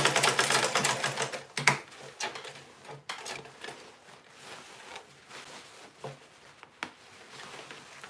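A sewing machine stitching turban fabric, running in quick clattering bursts with brief stops and handling knocks between runs, fairly quiet and close.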